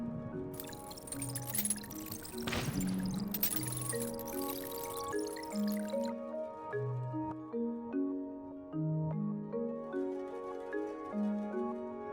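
Heavy rain pours in the video game Tower of Fantasy, a dense wash of falling water over the first several seconds, mixed with dripping and a gentle melodic in-game music score that carries on alone afterward.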